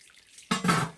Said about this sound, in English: I've got about another 10 litres of sparge water to go through that.